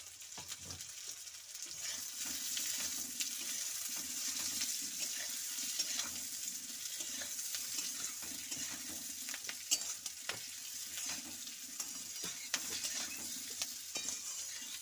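Potatoes fry in a pan with a continuous soft sizzle, stirred with scraping clicks and occasional sharp taps, steady and fairly quiet.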